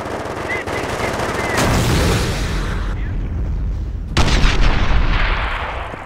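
Loud three-round-burst rifle fire from the video game Company of Heroes: Modern Combat, mixed with booming blasts and noisy battle sounds, continuing for several seconds.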